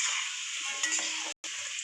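Potatoes seasoned with salt and a little turmeric fry in a pan with a steady, close hiss and sizzle, briefly cutting out for a moment before resuming; no one speaks.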